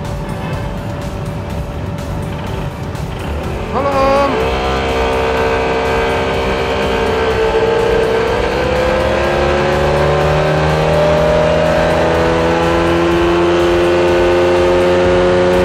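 A Honda car engine with an open exhaust revs on a dyno, a loud steady roar that climbs in pitch after a few seconds and holds at high revs, harsh and close throughout.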